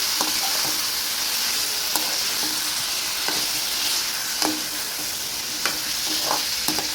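Chicken pieces fry in hot oil for a dhaba-style chicken gravy, giving a steady close sizzle with occasional stirring clinks and scrapes and no talking.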